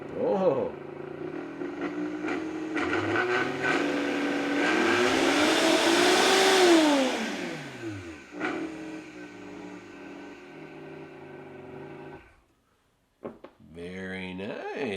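A Vitamix smoothie blender whirs up, rising in pitch to a loud peak then winding down and stopping, with a voice talking over it and a short burst of motor sound at the end.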